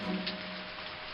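Steady rain pours down in an animated Hindi street-food comedy story, a continuous dense hiss with a low rumble beneath, loud and close throughout with no voices.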